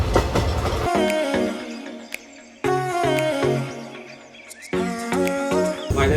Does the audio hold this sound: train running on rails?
yes